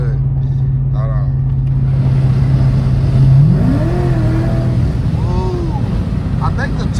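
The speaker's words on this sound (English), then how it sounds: "I am gonna crack these windows because the car sounds so good" Cadillac CTS-V V8 engine rumbling steadily with the windows cracked, a constant low drone that swells briefly as the car accelerates, while people talk over it.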